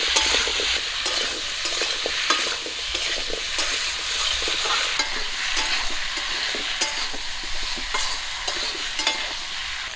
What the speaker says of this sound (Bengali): লবণ হলুদ দিয়ে কচিগুলোকে একটু ভাজা করে নেব